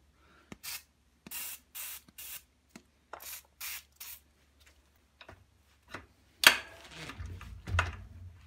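An aerosol can sprays oil onto a stubborn bicycle bottom bracket cup in a series of short hissing bursts, about seven in quick succession. Rubbing and clattering from the work on the cup follow.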